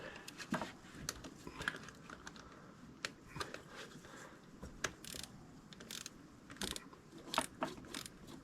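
A torque wrench clicks and ratchets in short, irregular bursts while snugging small bolts on a Mercedes M276 engine's PCV parts, quiet and close with sharp isolated ticks.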